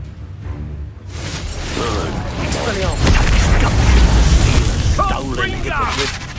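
Confringo fire spells go off during a fight in Hogwarts Legacy, with booming blasts and whooshing bursts swelling into a loud, rumbling wash of game noise, continuous and close.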